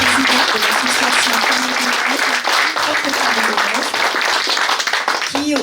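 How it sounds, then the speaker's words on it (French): A crowd at an academic event honoring a Moroccan Jewish thinker breaks into sustained, even clapping that carries steadily for several seconds, with a voice speaking over it throughout. "On applaudit la présence de Madame Madeleine Johnson,"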